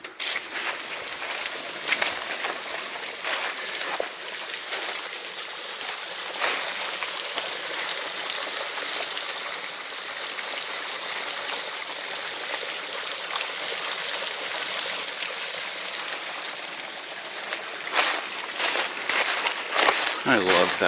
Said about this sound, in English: Well, I can hear the water.